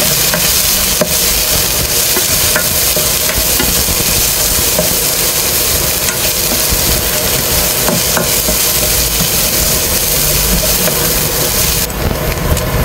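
Vegetables fry in a hot pan for sinangag fried rice, a steady loud sizzle with scraping stirring throughout and a faint engine-like hum beneath.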